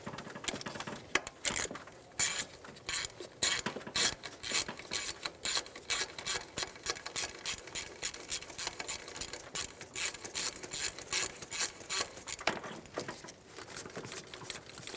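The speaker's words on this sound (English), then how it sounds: "Once you have both bolts installed, snug them down." A ratchet clicks rapidly in short bursts while snugging down knock sensor bolts on a 2003-2008 Honda Pilot engine, close and crisp, with brief pauses between runs of pawl ticks.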